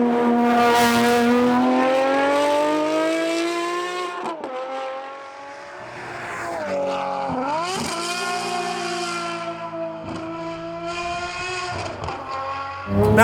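A Talos XXT, a road-going Ferrari 599 running the 599 GTO map, roars loudly as its engine climbs in pitch, then blips and crackles through a series of sharp rev-matched downshifts, heard up close with no talking.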